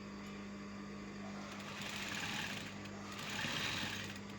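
A sewing machine stitching fabric pieces together, a close, steady motor hum with a fast rhythmic needle chatter that swells slightly twice as it runs.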